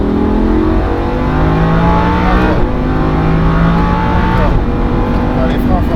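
A Lamborghini Huracan accelerates hard on the Le Mans Maison Blanche circuit, its engine note rising loud and close through gear changes, with an instructor talking over it.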